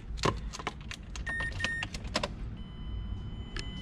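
Car keys jangle and clink in several quick bursts as a programmed key for a Mazda that will not start is set down, close and fairly loud over a low steady hum.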